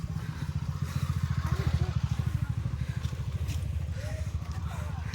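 A scooter-style motorbike engine chugs steadily and close by as it is ridden uphill on a trek route to Prabalgad fort, its rapid rhythmic putter dominating, with faint voices in the background.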